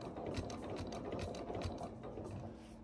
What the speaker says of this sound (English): I'm going to overstitch a few stitches.